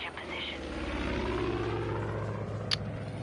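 Aircraft flying overhead in a video game, a throbbing rotor-like drone that holds steady for a few seconds with a faint click near the end.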